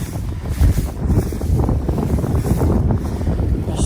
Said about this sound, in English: It's still windy, but better than what it was earlier today.